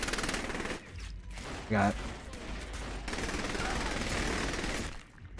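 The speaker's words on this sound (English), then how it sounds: "I shot him in the face several times." Gunshots in Saints Row The Third, loud and dense bursts of shooting with a sharp crack near the middle, while a voice briefly speaks.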